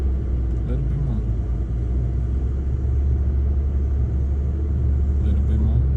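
A sports car engine rumbles steadily at low revs as a young driver eases onto the gas, a deep continuous drone running throughout, with an instructor's voice talking over it.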